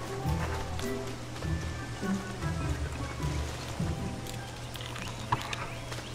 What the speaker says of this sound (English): Hope this rain stops in a moment.